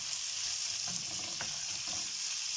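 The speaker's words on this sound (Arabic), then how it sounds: "جبت الصينيه بتاعتي وحطيت فيها زيت وهنزل بالبصل زي ما احنا سامعين كده" Onions hit hot oil in a baking tray and fry with a steady, fairly quiet sizzling hiss, broken by a few soft stirring scrapes.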